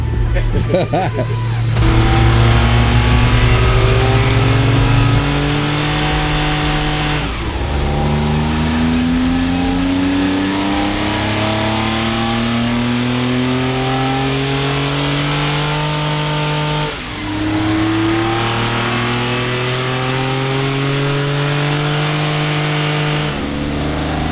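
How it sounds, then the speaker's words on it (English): A Porsche 914-6 engine revs repeatedly on a dyno, three long sweeping pulls climbing steadily in pitch, loud and close with brief drops between runs. "Just finished up on the dyno session for today with the Porsche 914-6."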